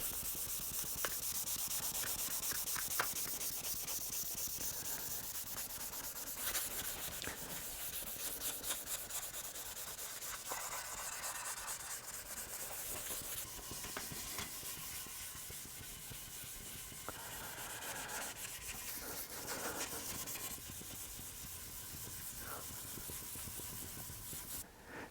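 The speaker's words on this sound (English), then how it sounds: "So I'm just going to continue to get this sanded" Continuous rough rubbing of fine sandpaper on a tung oil wood finish, close and steady for the whole stretch, with no talking.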